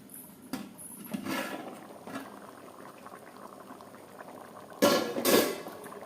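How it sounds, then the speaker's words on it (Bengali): Khichuri bubbles in a pot, a continuous soft boiling burble that swells into louder bursts as the lid is lifted and moved, close by and without talk. "চলো খিচুড়ির হাঁড়িটা এখন ওপেন করবো একটু"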